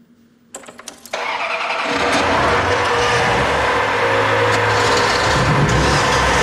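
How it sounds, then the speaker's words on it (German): A car engine cranks and catches after a few sharp clicks, then settles into a loud, steady idle rumble that continues to the end. "Also, lasst jetzt alle eure Motoren an."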